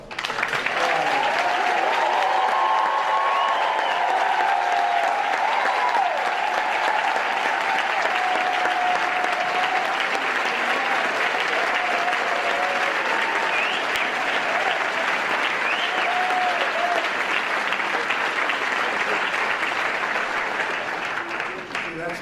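A large audience applauds the 2019 White House HBCU Competitiveness Scholars as they stand, a steady, dense wash of clapping that holds loud and unbroken for over twenty seconds, with faint crowd voices mixed in.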